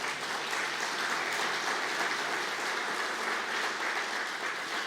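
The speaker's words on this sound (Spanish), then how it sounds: "Dele un aplauso al Señor." Church congregation applauding steadily during a Spanish-language sermon, a dense, continuous clapping that fills the whole stretch at a fairly loud level with no talk over it.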